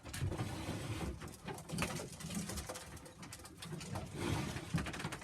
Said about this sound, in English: Long pigeons these are, quite long.